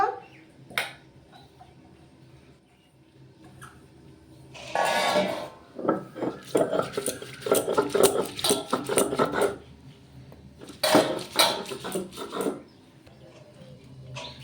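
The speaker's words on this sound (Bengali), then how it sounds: "বন্ধুরা, জলটা ঝেড়ে নিয়েছি, এবারে বিউলির ডালটা বেটে নেব" Soaked urad dal is ground into a paste, with bursts of rough, rhythmic scraping and grinding separated by quieter pauses.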